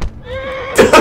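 A horse whinnies in the medieval game Kingdom Come: Deliverance, a drawn-out neigh with wavering pitch that rises and falls, followed by a couple of loud snorting bursts at the end.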